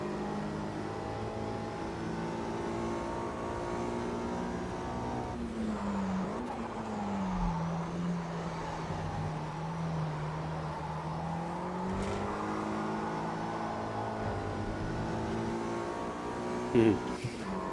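A 1965 Mini Cooper S races in Automobilista 2, its engine droning steadily with pitch sweeping down and back up as gears change, loud and close throughout with a brief sharp burst near the end.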